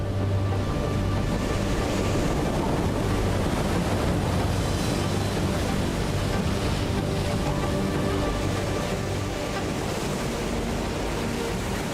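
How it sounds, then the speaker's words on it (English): Steady, dense roar of wind-driven ocean swells breaking continuously, a loud unbroken wash of surf with no distinct individual crashes and no voices. "Wind swells make powerful waves to surf."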